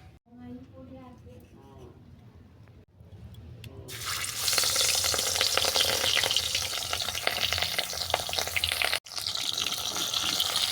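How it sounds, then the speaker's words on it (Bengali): Fish rubbed with salt and turmeric fries in hot oil, a loud dense sizzle that bursts in suddenly after someone speaks, then crackles steadily, close by, with a brief cut near the end. "মাছের মধ্যে লবণ হলুদ মেখে আমি মাছটাকে ভেজে নেব"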